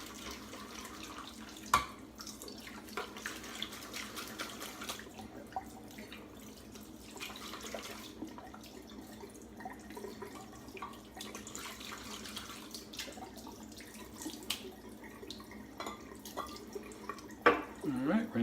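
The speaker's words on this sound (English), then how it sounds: "rinsing out the bowl and the brush while I let the alum sit" A bathroom tap runs as a shaving bowl and brush are rinsed, a faint steady water stream with small drips and splashes, quiet and continuous, with a sharper knock or two near the start and end.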